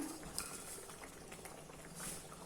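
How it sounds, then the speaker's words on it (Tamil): Faint bubbling and soft popping of thick curry gravy with field beans and dried fish simmering in a pot, quiet and continuous with small irregular blips. "இது ஒரு 10 நிமிஷம் நல்லா கொதிக்கணும்."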